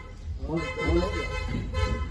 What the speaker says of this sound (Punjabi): ਮੇਰਾ ਖੁੱਲਾ ਹੋ ਗਿਆ ਆ ਹੌਰਨ ਬੜਾ ਵੱਜਦਾ